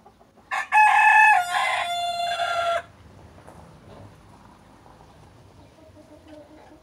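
A young rooster among hens crows once, loud and close, in a long harmonic call, followed by several seconds of faint farmyard quiet.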